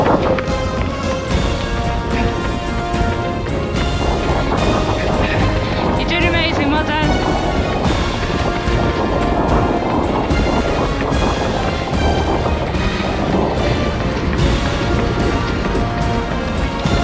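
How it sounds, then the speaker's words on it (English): Strong wind buffeting the microphone during a marathon training run, a constant loud roaring rush with gusty fluctuations, with a voice speaking in places. "Wind was just too much for me."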